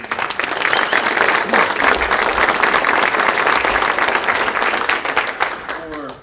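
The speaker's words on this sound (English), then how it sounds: "If we give them a round of applause" Loud, sustained applause from an audience, steady clapping throughout that tapers off at the very end.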